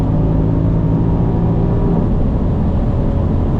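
A Mercedes SL 63 AMG with its naturally aspirated V8 accelerating hard toward 200 km/h, a loud, dense, continuous engine roar heard from inside the car, holding steady for a few seconds with no talking.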